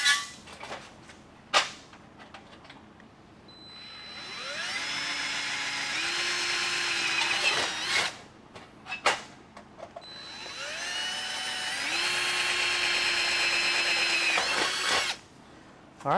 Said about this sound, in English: go ahead and open up these two little holes that I drilled earlier so that the screws will fit in the holes